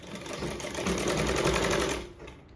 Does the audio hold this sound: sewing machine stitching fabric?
yes